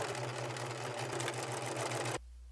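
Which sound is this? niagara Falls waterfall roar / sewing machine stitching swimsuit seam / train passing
sewing machine stitching swimsuit seam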